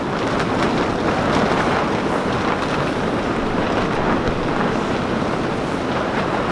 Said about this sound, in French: en ce moment il y a beaucoup de vent